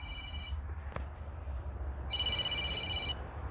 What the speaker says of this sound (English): your phone's ringing, ringing, ringing, ringing